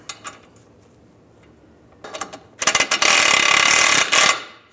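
Ratchet wrench snugging a sway bar link bolt on a 1998-2010 Volkswagen Beetle front suspension: a few light clicks, then a loud, fast continuous ratcheting run close up.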